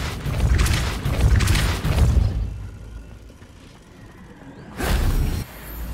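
The Depulso force-push spell in Hogwarts Legacy hits with a heavy booming whoosh and crashing impact, followed by a quieter lull and another loud burst near the end.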